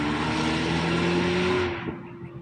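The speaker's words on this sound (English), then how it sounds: "a loud car" A loud car roars past nearby, its engine note strong and steady for about a second and a half before fading quickly into quiet.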